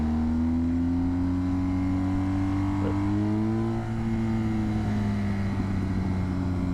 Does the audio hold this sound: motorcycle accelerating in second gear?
yes